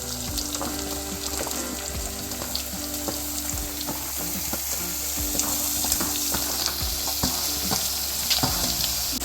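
Bottle gourd pieces frying with softened onions in a pan give a loud, steady, close sizzle with scattered crackles and light stirring scrapes throughout, with no voices.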